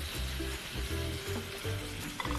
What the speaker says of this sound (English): you want each of the prawns to get a chance to be right against the hot surface of that pan